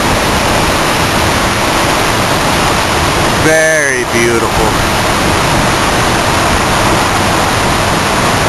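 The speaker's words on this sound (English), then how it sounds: "This is a small waterfall, and I'm going to walk over to the big waterfall in a minute." A small waterfall at Cloud Canyon in northwest Georgia roars as a loud, steady rush of falling water, with a person speaking briefly midway over the constant noise.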